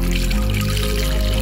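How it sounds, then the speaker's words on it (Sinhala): Water is poured into a pot of chili-coated meat for haejangguk, a Korean hangover soup, making a steady, loud, close rushing splash over a low background hum. "වතුර දානවා මේකට"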